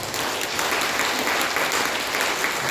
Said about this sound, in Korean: 여러분 동의하시면 박수하시기 바랍니다